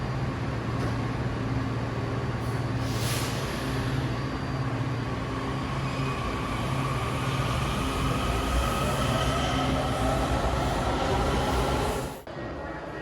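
Metro train pulling into Metro Centre station in Washington DC: a loud, steady rumble and rolling roar of the railcars fills the platform, with a faint rising whine over it, then the noise drops off sharply near the end.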